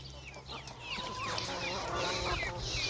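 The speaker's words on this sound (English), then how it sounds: "So in this kennel, we have meat birds. These are red rangers." Red Ranger meat chickens cluck and chatter together in a kennel, a busy overlapping flock heard close, with low background hum and no talk.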